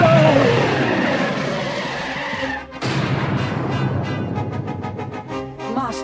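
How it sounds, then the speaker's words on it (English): Spaceship braking thrusters and crash landing in a sci-fi audio drama, a loud roaring rush that cuts off abruptly, then bursts back in a harsh, screeching, fluttering blast. "I'm gonna have to hit the braking thrusters awfully hard."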